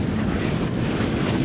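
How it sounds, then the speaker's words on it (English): Cannon fire in a Napoleon: Total War online battle between France and Britain comes across as a dense, continuous low rumble of distant artillery, steady and loud with no distinct separate blasts. "And some more cannon fire"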